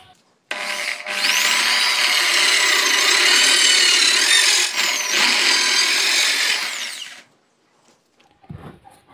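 A power saw cuts through PVC pipe to make a miniature truck wheel rim, a loud, steady whining rasp lasting about six seconds with a brief dip partway, then stopping abruptly, followed by a few faint handling knocks.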